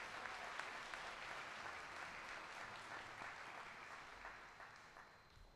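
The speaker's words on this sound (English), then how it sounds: "Let's have another round of applause for the Seoul American Middle High School Symphony Orchestra." A crowd claps steadily in sustained applause for a school symphony orchestra at a school closure ceremony, dense and even, slowly fading toward the end.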